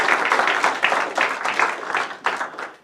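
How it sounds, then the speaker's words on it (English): Audience applause for the first speaker at a talk event: steady dense clapping from a sizable crowd, fairly loud and close, swelling in bursts before tapering off near the end. "So please give a round of applause to our first speaker."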